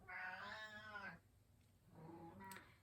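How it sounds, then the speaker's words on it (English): Domestic cat meowing twice, a long bright meow and then a shorter one after a pause, close and fairly quiet in a calm room. "She has such a pretty meow."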